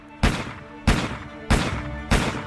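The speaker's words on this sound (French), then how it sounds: "6 coups de feu claquent dans le bureau." Four sharp revolver gunshots ring out in an office, evenly spaced about half a second apart, each loud, close and followed by a short decaying tail.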